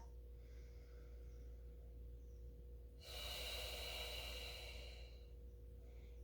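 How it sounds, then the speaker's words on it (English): A single deep, audible exhale during a Pilates mat class in a garage gym, lasting about two seconds against a steady low hum of background noise. "One more big breath."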